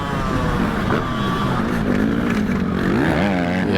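A Suzuki RMZ 450 motocross bike passes a Kawasaki KX 450 during a race, several loud, close two-wheeler engines snarling and rising in pitch together with a brief wavering rev at the end.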